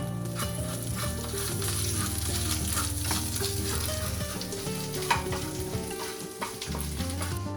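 Ginger-garlic paste fries in ghee for making smoked paneer, giving a steady, close sizzle with stirring scrapes throughout and no talk.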